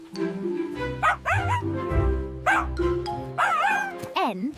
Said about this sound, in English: M is for miniature pincher.